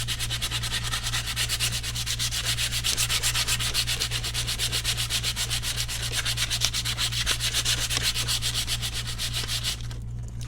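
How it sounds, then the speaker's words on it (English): Sandpaper rubs by hand over a wooden porch shelf in fast, steady back-and-forth strokes, close and continuous, stopping just before the end. "I can go in and hand sand it again"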